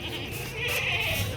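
Goats bleat on a farm of fat male goats, a short, continuous chorus of nearby animal calls against a dense, noisy background.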